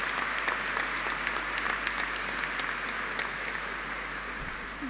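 Steady applause from a congregation fills the basilica cathedral in Messina during a beatification ceremony, a dense, even clatter of many hands that holds at a constant level throughout.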